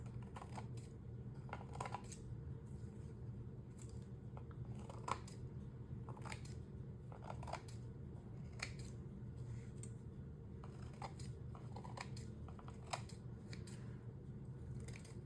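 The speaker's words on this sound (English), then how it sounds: "I'm just going to shake it off first and then just come in here and trim along the edges." Scissors snip repeatedly while trimming dried, adhesive-backed moss along the edges of a mixed media wishing well craft piece, a series of quiet close crisp cuts coming in small clusters over faint background hum.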